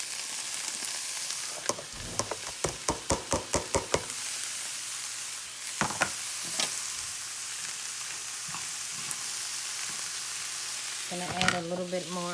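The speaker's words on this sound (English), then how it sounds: "Then I'm just gonna go ahead and I'm gonna add all the veggies in." Vegetables sauté in avocado oil in a pan with a steady hiss of frying, broken by a quick run of sharp utensil knocks early on and a few scattered clacks later.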